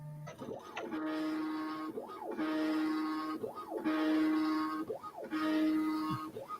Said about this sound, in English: This printer sounds so excited.